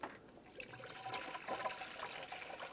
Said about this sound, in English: put a funnel in here, that way I don't spill everywhere, and fill it with the manufacturer's recommended coolant